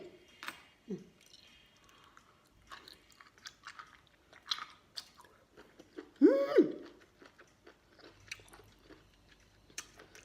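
Someone chews food dipped in a seafood dipping sauce, with soft wet crunches and bites repeating up close and quiet, interrupted by a brief voiced murmur partway through.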